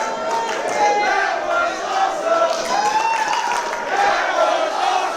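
A wrestling crowd cheers and applauds after a cruiserweight title match, with a dense, sustained roar of voices and clapping that stays steady throughout.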